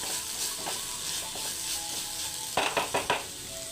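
Tomatoes softening in a frying pan with turmeric, a steady bright sizzle joined near the end by a quick run of four scraping clicks from stirring, with no talking.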